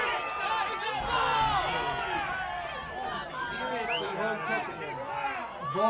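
At a girls' high school soccer game, spectators cheer and shout in a continuous, moderately distant roar with children's voices and chatter mixed in, and a commentator talks over it.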